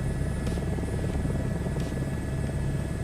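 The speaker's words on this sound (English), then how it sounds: "So, Benjamin, is there a reason why you don't use the throttles when you fly helicopter as well?" A helicopter flies steadily in Microsoft Flight Simulator 2024, its engine and rotor making a continuous low rumbling drone that stays loud and even throughout, with no talk over it.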